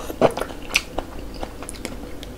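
Crisp bites and crunchy chewing of a Mom's Touch Thigh Burger fried chicken burger, a couple of sharp crunches followed by softer, steady mastication close to the mic, no talking.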